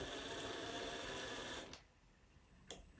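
Yikong YK4107 1/10 scale RC crawler, a Nissan Patrol body, crawling slowly with a faint whining motor and gear buzz that cuts off, followed by a brief second whir, close and quiet.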